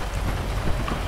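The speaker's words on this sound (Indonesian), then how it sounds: "Terus bisa ke hujan," Rain weather in the video game GTA 5, set through the Menyoo trainer mod, comes through as a dense, even hiss of falling rain with a low rumble beneath, brief and steady.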